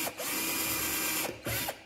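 A drill bit starts a pilot hole during assembly of a Kingstar KS 8700 hood: a steady whirring grind in two short bursts, separated by a brief pause, close and fairly quiet.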